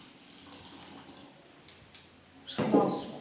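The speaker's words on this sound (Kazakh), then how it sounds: "Сол себепті біз оған су құйып аламыз." Water splashes into an ikebana vase in a short burst near the end, starting faintly and swelling louder over about a second, with quiet room noise before it.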